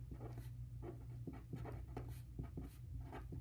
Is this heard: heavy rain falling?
no